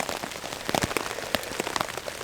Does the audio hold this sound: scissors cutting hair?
no